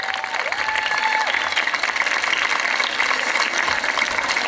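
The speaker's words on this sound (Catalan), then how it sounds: "Un aplaudiment per la Maica" A school audience at a Sant Jordi celebration claps steadily in a dense, sustained round of applause, fairly close and loud, with a brief tone sliding in at the start.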